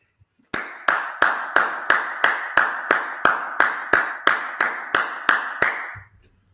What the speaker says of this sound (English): Let's go ahead, clap it up.